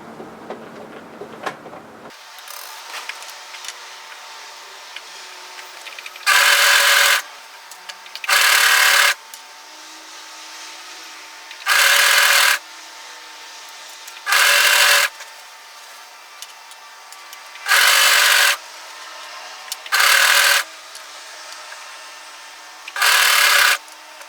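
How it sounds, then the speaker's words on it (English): An overlocker stitches hoodie fabric in short loud bursts of a few seconds each, seven runs separated by quiet pauses, after a brief burst of handling noise at the start. "I'm going to start overlocking this together from around about a shoulder area."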